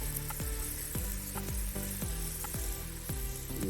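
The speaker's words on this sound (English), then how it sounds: "So while those are browning, I'll continuously chop my vegetables." Flour-dusted beef pieces browning in a pan, a constant loud sizzle overlaid by a steady rhythm of sharp knife chops on a board, about two per second, close by.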